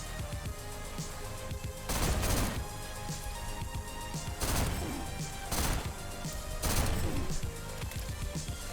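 A gun firing in the GTTOD: Get To The Orange Door video game, sounding as four loud, punchy bursts at roughly even spacing over a steady background hum.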